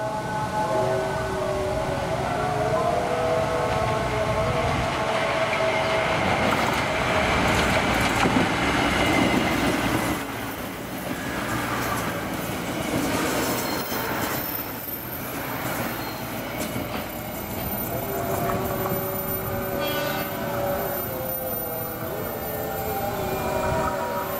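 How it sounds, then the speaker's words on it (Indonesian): An inspection train rumbles past close by on a sharp curve in Cikarang, Indonesia, for a long stretch, wheels screeching and squealing on the rails, with a sustained horn-like tone rising over the noise. "Akhirnya lewat juga ini, kereta luar biasa, kereta inspeksi 4."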